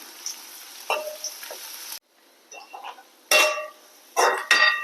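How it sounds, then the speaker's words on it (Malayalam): Curry leaves and finely chopped onion dropped into hot oil in a pan for a bean thoran, giving bursts of crackling sizzle between quieter gaps, with faint clinks of a utensil, close and without speech. "കുറച്ച് കറിവേപ്പില ഇട്ട് കൊടുക്കുക ഇതൊന്ന് വഴറ്റിയെടുക്കണം"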